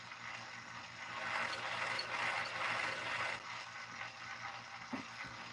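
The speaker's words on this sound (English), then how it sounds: "run this back on the chamfer and the brush." A chamfer and brush tool works a .308 brass case with a quiet, continuous whirring rasp that swells in the middle and eases off, ending with a small tap, no voices.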